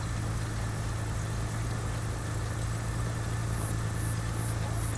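Tractor engines idle in a console farming game set on a map of Alma, Missouri, a steady, unbroken low drone with an even mechanical rumble throughout, no voices.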